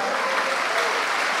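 Church congregation clapping together at an Easter Passover service, a loud, dense, continuous wash of many hands close by, steady throughout.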